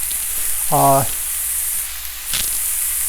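Onions, carrots and celery fry in a pan for a Lebanese eggplant and lentil stew, giving a steady, close, hissing sizzle throughout, briefly interrupted by a short tonal sound.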